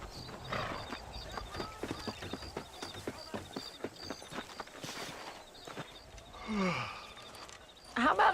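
A horse clip-clops along in the video game Red Dead Redemption, steady hoofbeats in a quick rhythm, with a brief whinny and other game sounds near the end.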